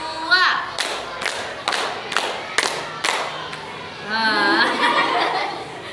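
A small group in a classroom counseling session claps a short rhythmic pattern, about six sharp group claps in a row, with a voice and some laughter before and after.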